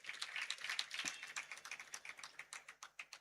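Light, sparse clapping from a small audience at a Jain religious discourse, individual claps thinning out into a slow scattered patter toward the end.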